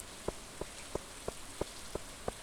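Rain in the farming game Stardew Valley, heard as a steady hiss with a regular series of soft, evenly spaced drip-like taps, about seven in quick succession, with no voices.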